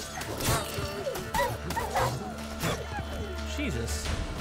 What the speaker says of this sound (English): Oh, get out of here, rabid dog.